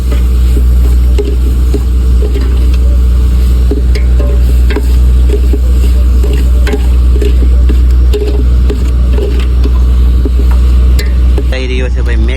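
Prawns being stirred and cooked in a pan for dum biryani aboard a Porbandar fishing boat, with a steady loud sizzle and scraping stir strokes over a constant low engine drone throughout.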